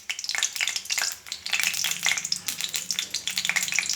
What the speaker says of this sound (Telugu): జీలకర్ర, ఆవాలు వేసుకోవాలి